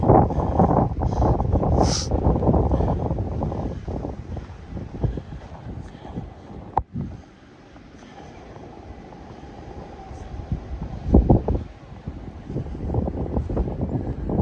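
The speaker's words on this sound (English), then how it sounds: "so I can quit walking directly into the wind" Blizzard wind batters a microphone while someone walks through the storm, producing a loud, gusting roar that rises and falls, drops away briefly partway through and then builds again.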